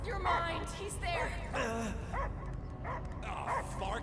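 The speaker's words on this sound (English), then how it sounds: "I hear only barking." A dog barks and yips in the Guardians of the Galaxy video game, several short excited calls and whimpers scattered through the stretch, mixed in with game voices talking.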